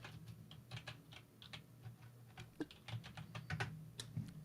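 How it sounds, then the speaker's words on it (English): Rapid, irregular keyboard typing, a flurry of close clicks and taps alternating between bursts and brief pauses over a steady low background hum, with no talking. "someone's typing furiously"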